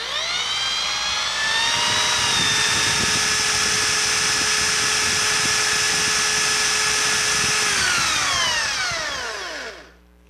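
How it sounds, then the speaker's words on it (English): A power drill whirs steadily at high speed for several seconds, spinning the water pump V-belt on a VW Golf Mk3 engine, with a low rumbling drone underneath, then spins down to a stop. "I'm going to use the chuck on the drill to pull the V-belt tight and spin it"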